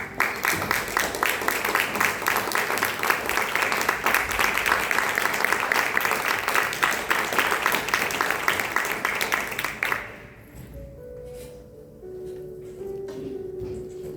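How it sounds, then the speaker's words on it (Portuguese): A church congregation claps together in dense, sustained applause for about ten seconds, then it stops abruptly and a quieter tonal background takes over. "dá uma linda salva de palmas para o Senhor Jesus."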